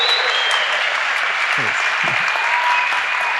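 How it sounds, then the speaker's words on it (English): An audience applauds steadily and loudly at a talk on creativity and the climate movement, dense continuous clapping throughout, with a brief spoken thanks over it. "take another round of applause, please"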